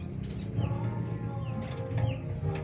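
A pigeon's wings flap in a brief burst as it is released, with soft cooing and rustling around it and steady outdoor background noise throughout.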